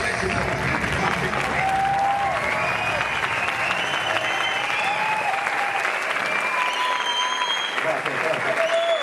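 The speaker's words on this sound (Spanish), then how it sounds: "ya veo que no todo el mundo está aplaudiendo" An audience applauds steadily and loudly throughout, a dense wash of clapping with someone talking over it.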